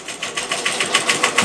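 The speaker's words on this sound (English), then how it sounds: "So I'm just going to do a back stitch and close up the opening that we have." A sewing machine back-stitches over a fabric opening to close it, giving a steady, close, buzzing run of rapid needle strokes with a slight pulsing rhythm and no talk.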